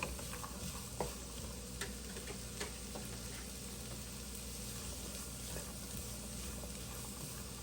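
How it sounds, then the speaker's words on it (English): Chopped onion and green pepper frying quietly in a pan, a soft even sizzle with a few faint utensil taps, close and low in level, with no talking. "We're also going to put in our onion and our green pepper that's chopped up."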